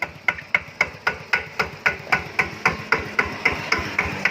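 An RT120 motorcycle engine idling at low rpm, close and moderately loud, with a steady, even chug of regular thumping pulses.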